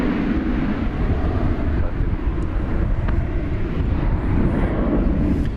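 A passenger jet takes off from the DFW airport runway, a steady, loud, broad roar of engine noise with wind buffeting the microphone, holding constant throughout with no speech.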